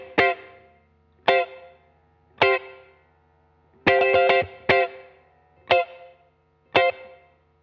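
Electric guitar, a Mad Cat, plays a funky riff with a distorted effects-unit tone, short choppy stabs and a quick burst of repeated ghost-note strums in the middle.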